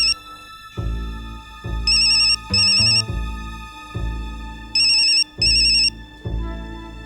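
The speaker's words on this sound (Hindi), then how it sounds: "पार्थो का मोबाइल" A mobile phone ringtone sounds loud and up close, a tonal electronic melody repeating in bursts with short gaps over about seven seconds, with no voices.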